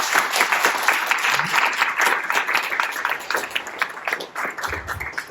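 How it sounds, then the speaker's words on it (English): Audience at a panel discussion on venture capital and Web3 gives a sustained, fairly loud round of clapping that thins out slightly near the end. "Let's give them a very big round of applause."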